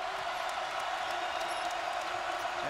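A basketball arena crowd at a 2012 Kansas versus Missouri game roars in a loud, sustained, unbroken wall of cheering, with a commentator's voice faintly underneath.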